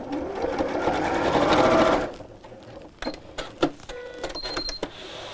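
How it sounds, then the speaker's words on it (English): Sewing machine stitching across the top seam of a crossbody bag strap, a close, fast whirring run for about two seconds, then stopping, followed by clicks and short handling sounds. "we're going to wrap this around and come back to the opposite side and sew this across the top of the opposite seam here"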